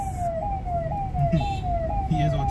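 A vehicle siren wails in a repeating rising sweep, several cycles in a row, steady and moderately close, with traffic noise and voices underneath.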